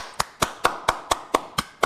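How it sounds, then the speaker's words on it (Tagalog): Slow, evenly spaced claps, about eight sharp loud hits in under two seconds, close and isolated with no talk over them, as if one person claps in a steady rhythm. "Palakpakan!"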